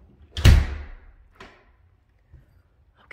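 A house door leading in from the garage to a second-story loft in a Lake Arrowhead, California home opens with a loud close thump, followed by a softer knock a second later and then near silence.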